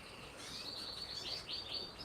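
Crested birds in an aviary give faint, quick high chirps in short bursts over a quiet background.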